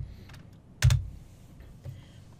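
A computer keyboard is tapped a few times to rename a layer, with a soft patter of keystrokes and one louder key strike, close and alone in a quiet room.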